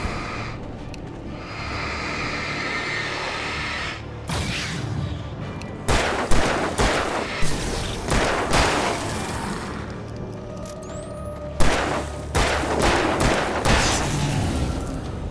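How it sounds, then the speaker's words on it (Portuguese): Gunfire in Alan Wake Remastered on nightmare difficulty: a run of sharp, loud shots in irregular bursts, fairly close, over a dark rumbling game ambience with no talking. "Já tentei atirar na cabeça para ver se economiza munição"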